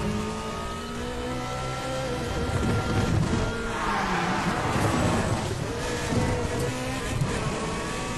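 A car engine races and revs continuously in the video game Need for Speed The Run, a dense, sustained roar with shifting tone and no clear speech over it.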